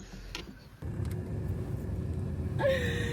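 A car engine starting for the first time, a sudden jump from quiet into a steady rumbling idle that holds, with a faint rise near the end.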